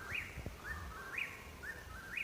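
A songbird calls repeatedly beside a trail in the Appalachian woods on a warm day, sweeping chirps rising and falling about every half second, fairly close and clear over quiet background.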